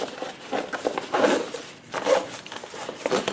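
Zippers on a Rothco EMS trauma bag being drawn in two or three short rasping pulls at close range, with soft handling noise of fabric between them.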